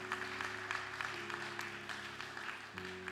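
A church congregation applauds the Lord, a steady wash of clapping from a crowd held under a sustained organ-like tone, faint and continuous for a few seconds.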